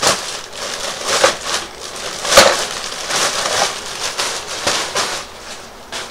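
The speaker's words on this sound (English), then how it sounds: "Right, come out the plastic bag." A folding chair being pulled out of its plastic bag, with continuous close crinkling and rustling of plastic broken by sharper crackles and one loud snap partway through, no talking.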